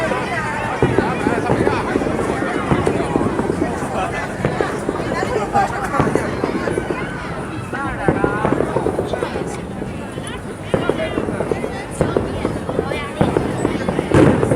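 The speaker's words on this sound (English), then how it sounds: "And you can see some of the fireworks. I've been hearing firecrackers all the time." Fireworks and firecrackers going off at a nighttime light festival in Beijing, a dense, continuous crackle and popping of bangs amid a noisy outdoor crowd, with people talking throughout.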